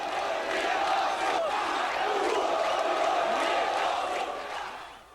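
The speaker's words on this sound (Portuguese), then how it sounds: "a torcida do Flamengo responde" Flamengo supporters roar and chant together in a packed Rio stadium, a dense, sustained wall of crowd voices that holds steady before fading slightly at the end.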